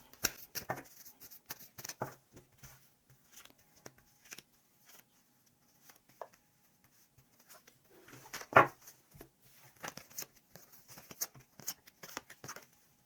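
Tarot cards are shuffled and drawn in quiet, soft papery flicks and light taps that come in scattered bursts, close up and faint, with no one talking.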